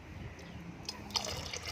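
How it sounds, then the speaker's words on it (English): Water poured into a bucket of house paint mix for an exterior makeover, a short liquid splash and trickle lasting under two seconds, close and moderately loud with no talking. "so we're going in with some water"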